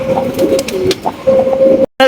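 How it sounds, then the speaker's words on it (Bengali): A pair of big Sirazi pigeons coo close by in soft, repeated, throaty calls, interrupted by a brief gap just before the end. "দেখতে পাচ্ছি চমৎকার একজোড়া হাই কোয়ালিটির বিউটি কবুতর"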